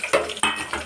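Onions and curry leaves with cumin being stirred in a cooking pan for kothimeera pulao, giving three close scraping strokes of a spoon against metal with a light sizzle underneath.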